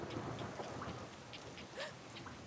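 Steady rain patters on a house during a thunderstorm, with a low rumble underneath and a few brighter drips standing out, fairly quiet and with no voices.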